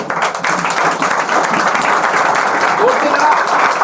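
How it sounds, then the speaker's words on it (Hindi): A large audience at a ceremony honouring a top-ranked rural sub engineer claps loudly and continuously, a dense, sustained roar of applause with no pauses. "बहुत सारा ताली बजा लो जरा खड़े होकर"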